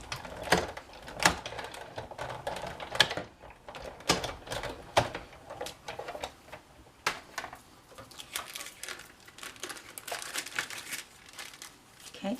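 Paper and wax paper being run through a die-cutting machine, producing loud irregular clacks and crinkling bursts in an uneven rhythm over several seconds, close up.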